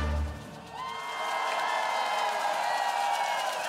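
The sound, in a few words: audience applause and cheering for Miserabel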